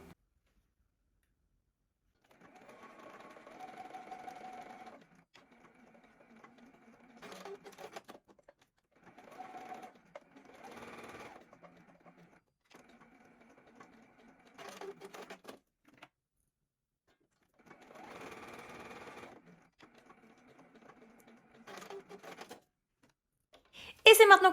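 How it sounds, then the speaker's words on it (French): A sewing machine runs a straight stitch on fabric in several short bursts of steady mechanical whirring and ticking, fairly quiet and close, separated by pauses, with a loud clatter at the very end. "On coud au point droit"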